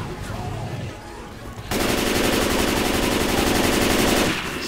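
Rapid automatic gunfire in Left 4 Dead 2 rattles loud and continuous for nearly three seconds, following a stretch of busier game noise and stopping abruptly.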